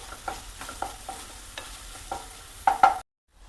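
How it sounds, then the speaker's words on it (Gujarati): A spatula scrapes and stirs rhythmically through tomatoes frying in oil over a medium gas flame, several distinct strokes over a soft, steady frying hiss, then silence. "ગેસની મીડિયમ ફ્લેમ ઉપર ટમેટાં સોફ્ટ થઈ જાય અને તેલ છૂટું પડે ત્યાં સુધી આપણે એને ચોળી લેવાના છે"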